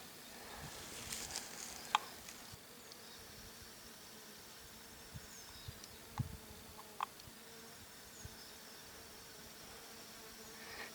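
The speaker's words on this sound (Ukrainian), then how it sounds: "моя садова підстилка або лісова, вона завжди гудить від бджіл" Bees buzz faintly among flowering apricot, pear and plum trees in a garden, a soft steady drone with a few nearer passes and occasional small clicks against quiet background.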